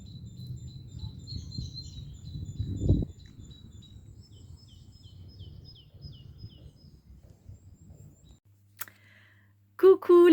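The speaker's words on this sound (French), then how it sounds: "Vous entendez les oiseaux qui chantent?" Small birds chirp and sing in short high repeated phrases in spring woods in Belgium, fairly distant over a low wind rumble, with a brief burst of nearby noise near the end.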